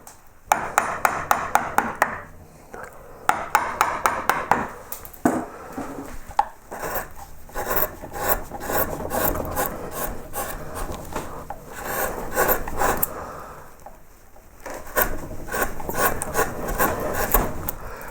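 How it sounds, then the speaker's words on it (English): Wood being carved with a middle gouge while finishing curved cuts on an open-book carving; a run of sharp rhythmic taps opens, then continuous close rasping, scraping strokes come in steady bursts with brief pauses. "So I'm switching to a middle gouge just to finish those cuts off here."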